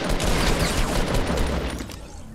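Dense, loud bursts of shotgun fire from a close-range fight in Fortnite, rapid overlapping blasts blurring into a roar for about two seconds before easing off.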